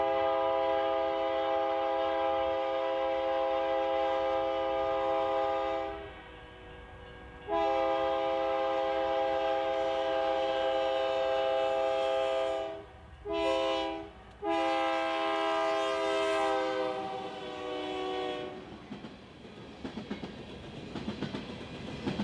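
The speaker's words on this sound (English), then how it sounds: "We see this empty coal train from Georgia Power with a run through Kansas City Southern unit" An empty Georgia Power coal train on BNSF's Cherokee Subdivision in Missouri, led by a run-through Kansas City Southern locomotive, passes with a long, loud multi-tone horn sounding repeatedly in blasts broken by short gaps, then rumbling wheels as it rolls by.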